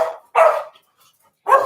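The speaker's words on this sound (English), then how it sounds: "And the dogs are going to bark." Dogs bark indoors in short sharp bursts, two close loud barks with a pause between, no talking.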